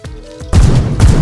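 Modded guns in Minecraft Bedrock fire on full auto, a loud, dense burst of rapid shots that breaks out suddenly after a short quiet lead-in and keeps rattling to the end.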